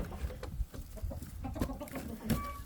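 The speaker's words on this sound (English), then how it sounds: "2 black hens out here." Black hens cluck repeatedly and close by on a farm, a busy run of short, uneven clucks and murmurs over a low outdoor background.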